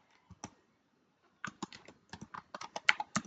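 Quiet keystrokes on a computer keyboard while logging in: two isolated taps, a pause, then a quick, irregular burst of soft clicks close to the microphone.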